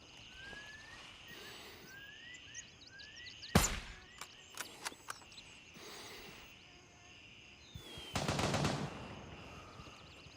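Gunfire in the military shooter Gray Zone Warfare: two sharp, loud broadband bursts a few seconds apart, with scattered single shots between them, over a quiet ambient bed of chirping insects and birds.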